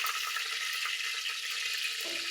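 Cumin and mustard seeds spluttering in hot oil make a bright, continuous crackling sizzle, close and steady, with a small clink near the end.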